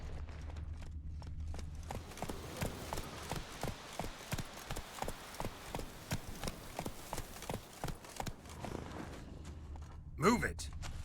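Roach, a horse in The Witcher, gallops with a steady rhythmic clip-clop of hooves for several seconds, close and moderately loud, ending with a brief sharper whinny-like sound near the end.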